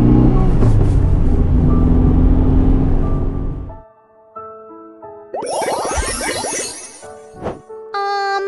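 Bus sound effect from a baby games app: a loud, steady rumble of a large engine for several seconds, fading out, then a bright tinkling jingle and a few short chime notes.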